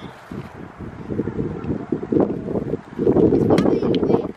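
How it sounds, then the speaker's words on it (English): Gusty wind buffets the microphone outdoors in uneven rumbling surges that grow stronger toward the end, with a voice talking over it. "Oops, sorry, it's windy."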